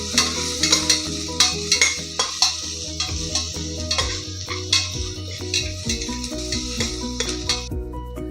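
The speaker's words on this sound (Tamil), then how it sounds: "அதை போட்டு அது பச்சை வாசனை போகிற வரைக்கும் வதக்கணும்" A spoon scrapes and taps steadily against a pan as ginger garlic paste is sautéed, with a faint sizzle underneath.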